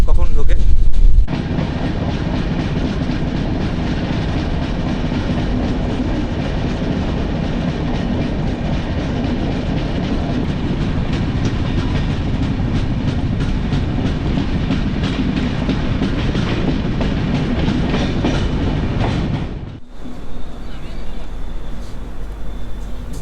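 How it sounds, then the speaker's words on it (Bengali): Passenger train from Kolkata (Sealdah) to New Jalpaiguri rolling steadily on the tracks near Kishanganj, a loud continuous rumble with wheel clatter that drops off abruptly near the end, leaving quieter ambient noise. "শিয়ালদা থেকে 485 কিলোমিটার দূরত্ব অতিক্রম করে আমাদের ট্রেন চলে এসছে তার যাত্রাপথের চতুর্থ স্টেশন কিষানগঞ্জ।"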